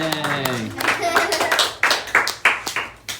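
A short burst of hand clapping from a few people, sharp claps in quick succession as a voice fades out at the start.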